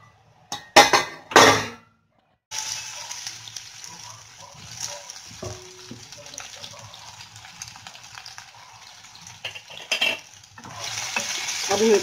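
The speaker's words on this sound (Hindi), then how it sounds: "अब हम इसको फ्राई करेंगे।" Steamed coriander muthiya pieces shallow fry in a little oil in a pan, opening with a few sharp clanks of a utensil, then a steady close sizzle with occasional scrapes and stirs.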